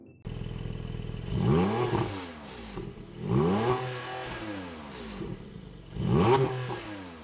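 Porsche Cayman GTS 4.0 with its flat-six engine revving loudly in three rising bursts, each climbing and falling in pitch like repeated throttle blips, with no talk.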